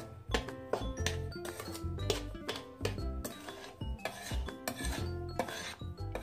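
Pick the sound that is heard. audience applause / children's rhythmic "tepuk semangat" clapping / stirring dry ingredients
stirring dry ingredients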